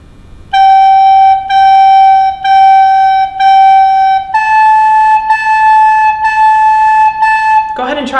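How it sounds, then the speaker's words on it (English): A recorder plays G four times, then A four times, in even, sustained, close tones with brief gaps between the notes, ending with a short noise. "G 4 times, then A 4 times."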